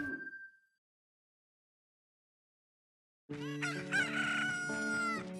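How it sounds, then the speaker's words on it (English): A newly hatched chicken from a blue egg crows loudly in Zelda: Ocarina of Time, a single long cock-a-doodle-doo following a short electronic chime and a stretch of silence. "Oh, our chicken hatched, our blue chicken egg."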